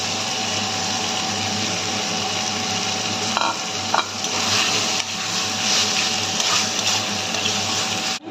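Potatoes and mushrooms sizzle steadily in a pan of frying spices, a close, continuous crackling hiss broken by a few stirring scrapes, with no talking.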